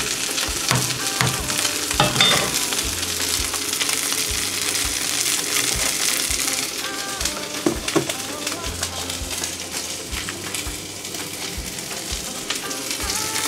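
Noodles, fish balls and seafood frying and sizzling in a pan, a steady crackling hiss with stirring clatter throughout, some background music and voices mixed in.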